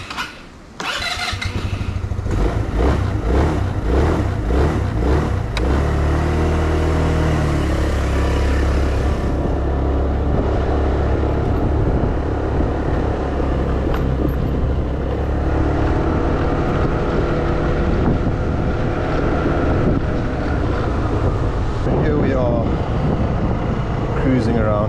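A SYM Orbit 2 scooter is ridden around town, its small engine starting and then droning steadily and loudly at close range, with wind buffeting and a voice talking over it.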